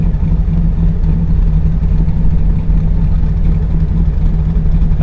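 A car engine idles steadily at around 900 rpm after a cam swap, close range, a low, even hum with a constant drone and no revving, running alone without talk.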